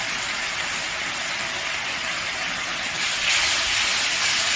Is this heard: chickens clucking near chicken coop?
no